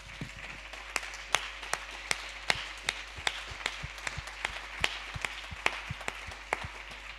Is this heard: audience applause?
yes